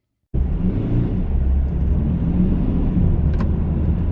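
Kia car with a faulty clutch driving along, a loud, steady low rumble starting abruptly and holding constant, heard from inside the vehicle.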